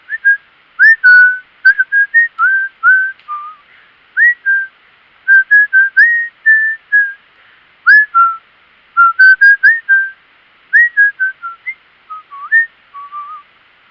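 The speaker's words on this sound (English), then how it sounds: "When you whistle, they stop." A person whistles a series of short, bright chirping notes in an irregular rhythm, clear and close against near silence.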